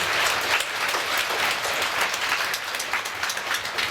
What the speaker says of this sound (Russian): Аплодисменты нашим политикам культуры за поддержку национальных проектов.